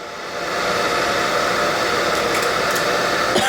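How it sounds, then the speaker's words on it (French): A hair dryer set to its lowest heat and weakest airflow runs as a steady, continuous whoosh, building up in the first half second and then holding an even, fairly loud roar throughout. "je mets mon sèche-cheveux un peu plus... la chaleur la moins chaude et le souffle le moins fort"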